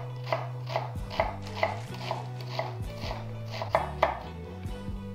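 A knife chops onion into half-slices on a cutting board for a simple herring-in-oil dish: a steady run of crisp, close taps at an even rhythm, with no talking.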